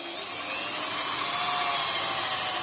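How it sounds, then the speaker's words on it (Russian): A homemade drill press bores into metal at low speed, producing a steady high-pitched whine that swells slightly in the first second and then holds constant and loud, with no talking. "И на малых оборотах пробуем сверлить."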